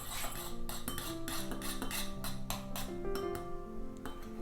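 Homemade sage deodorant being stirred with alcohol, a spoon or utensil clinking and tapping against a container in a steady run of bright strikes, close and clear with no talking.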